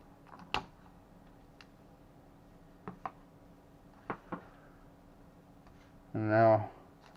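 Snips and clicks from cutting the old battery pack out of a Hudl 2 tablet, a few sharp separate cuts spaced seconds apart, close, ending in a brief louder buzzing burst, with no talk.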